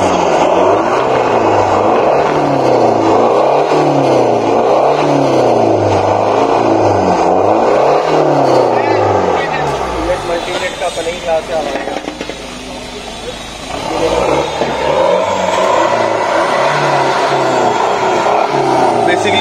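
Maruti Ciaz diesel car fitted with a loud exhaust, the engine droning and rising in repeated revs, dropping briefly before revving again, close and loud.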